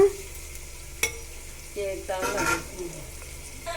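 Semiya vermicelli roasting in a pan for upma, with light sizzling and scraping stir strokes, a sharp clack near the start and a brief louder burst of frying midway, fairly close and without talk.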